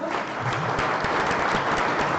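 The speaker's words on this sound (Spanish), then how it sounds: "Pido un fuerte aplauso para ellos." Dense, steady applause from a seated audience at a silvopastoral systems seminar fills the space, a continuous loud wash of many hands clapping with no talk over it.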